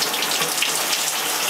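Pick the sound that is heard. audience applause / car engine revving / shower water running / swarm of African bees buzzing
shower water running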